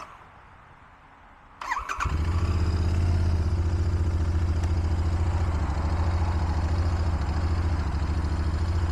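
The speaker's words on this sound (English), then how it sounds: "I'm going to pull on the clutch and hit that start button." A 2022 Royal Enfield Interceptor INT650 motorcycle cranks briefly with a starter whine, catches, and settles into a loud, steady, close idle.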